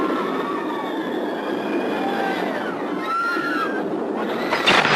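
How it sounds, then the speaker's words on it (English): Runaway mine train rattling along the Big Thunder Mountain coaster track at Disneyland, a steady rumbling roar with squealing wheel tones and rising metallic whines, loud and close throughout. "Force has unleashed the runaway mine trains on Big Thunder Mountain"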